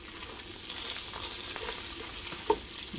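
Water poured into a hot pot of pork with chiles and bay leaves sets off a steady, dense sizzle and bubbling fry that carries on throughout, close and moderately loud with no voices.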